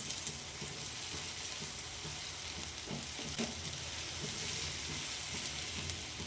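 Ginger-garlic paste frying over a low flame while being stirred, a steady close sizzle with soft scraping strokes of a spatula scattered through it.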